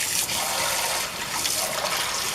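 Hot water streams from a tap into a sink, a steady close rushing splash lasting a couple of seconds, no voices.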